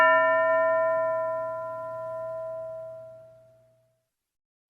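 A single bell is struck once in a classroom, its clear ringing tone with bright overtones decaying slowly over about four seconds before fading to silence.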